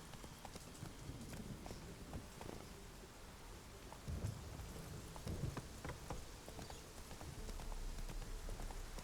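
Horse hooves clip-clop at a steady trot through Velen in The Witcher 3, heard under a rainy, stormy backdrop with occasional thunder and no talking.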